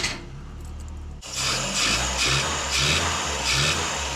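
A Ford Escort Mk2's CVH engine idles with a low rumble, cuts briefly, then revs up into a loud, fluctuating roar close by, with no talking.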